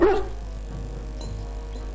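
A dog in the video game Dragon Age: Origins gives a single short, high bark at the start, followed by quieter low game ambience.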